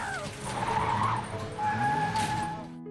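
A car in a film speeds after a jogger with a loud, sustained tire squeal and skid over a rushing engine, the screech rising and then fading away.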